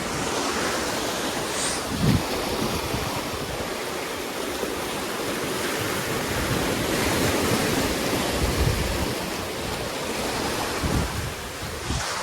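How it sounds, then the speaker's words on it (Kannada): Ocean waves roll in at Paradise Beach in Gokarna, a continuous loud wash of surf with heavy wind buffeting the microphone, steady for the whole stretch with no voices. "ಸರಿ ವೈ ಇಡೀ ಸಮುದ್ರನೂ ಉಪ್ಪು ನೀರು ಐತಿ"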